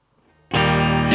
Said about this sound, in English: So you get a pretty decent sound from the sort of amp, the amp distortion.